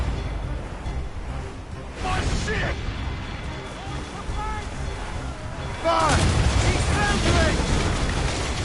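Ship cannons boom in a naval battle in Assassin's Creed Rogue, heavy blasts rolling over wind and sea noise, with a louder barrage near the end as voices shout over the fire.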